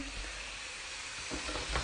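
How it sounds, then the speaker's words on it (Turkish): Onions and minced meat sizzle steadily in a hot pan while being sautéed, a continuous close-up crackle with a slight scrape near the end. "Soğanlarım yumuşayana kadar bunu da kavuruyorum."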